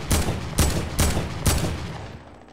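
Four rapid semi-automatic sniper rifle shots ring out in a Fortnite match, each a sharp loud crack with a short decaying tail, evenly spaced about half a second apart.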